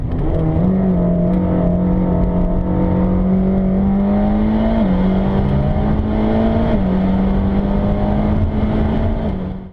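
Mercedes-AMG GT Black Series engine roaring loud and close at full throttle on a Nürburgring lap, the pitch climbing steadily with two quick dips at gear changes, no voices.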